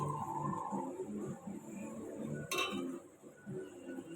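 A lid comes down on a simmering pot of fish curry cooked with pointed gourd, making one sharp clink midway. It sits over a steady background hum and kitchen noise.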